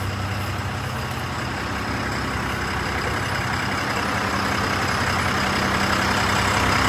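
A Swaraj 855 tractor engine roars steadily at high load, straining to haul a stuck farm trailer out of rain-soaked mud; a loud, continuous low-pitched drone holds for the whole stretch with no pauses.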